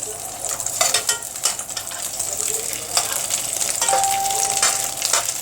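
Ghee sizzles and bubbles in a pot for okra tagine, a steady dense crackle with louder spits, close and continuous throughout.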